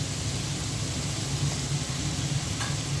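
Tomatoes and green chilies hit a hot frying pan in a Bangladeshi home kitchen, giving a steady, even hiss of sizzling that holds at one level throughout with no pauses and no voices.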